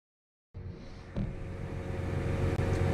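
A farm truck drives out toward distant fields, starting after a moment of silence as a low, steady engine rumble from inside the cab that grows slightly louder, with a thump along the way.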